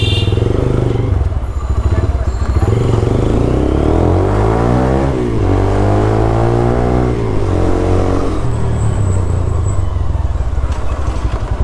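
A motorbike engine revs hard under strong acceleration, its pitch sweeping up and down through several gear changes, loud and close throughout.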